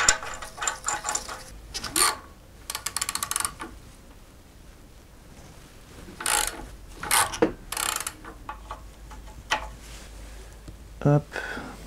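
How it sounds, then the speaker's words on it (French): A bolt being screwed back into place on a car engine during timing belt work, scattered metallic ratcheting clicks and tool clinks in short bursts, close by, with quiet gaps between. "Je remets en place la vis."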